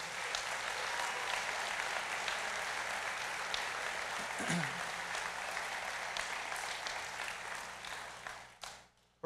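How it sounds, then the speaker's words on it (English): Audience applause for Choctaw Nation employees at the 2018 Choctaw Nation State of the Nation, a dense sustained ovation of many clapping hands that holds steady for most of the stretch before tapering off at the end. "please give them a big round of applause."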